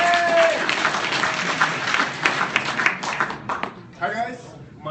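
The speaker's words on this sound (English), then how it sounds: "Round of applause!" A KyivJS meetup crowd applauds a speaker's introduction: a steady wash of clapping and cheers that thins toward the end, when a voice begins speaking.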